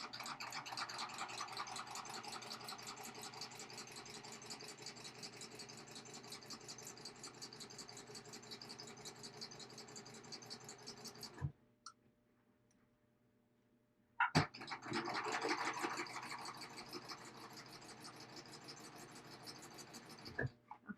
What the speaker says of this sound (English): as it stitches, the machine does pull it into the correct position